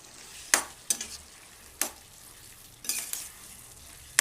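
Tomatoes and a lemon-sized lump of tamarind frying in oil in a pan, a steady sizzle broken by several sharp scraping stir strokes, close and without talk.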